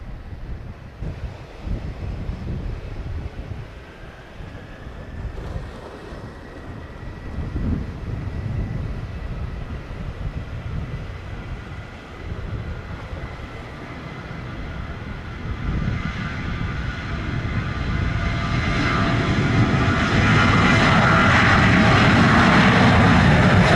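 An airplane takes off at Sangster airport in Montego Bay, Jamaica. Its engine roar builds steadily from a distant rumble to a loud, broad blast over gusty wind noise on the microphone.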